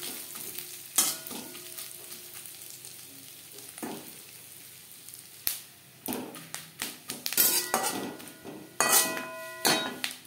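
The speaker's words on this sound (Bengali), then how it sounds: "নারকেল ভেজে নেওয়ার পর" Grated coconut frying with spices in a pan for a vegetarian chana dal, with a soft sizzle under irregular clusters of loud metallic scrapes and knocks from stirring, close by with no talk.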